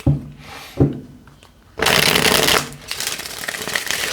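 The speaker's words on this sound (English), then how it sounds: "let me finish this shuffle" Tarot cards shuffled by hand, with a couple of soft riffles early on, then a loud, dense burst of rapid card flapping, followed by continued steady shuffling, with no talking.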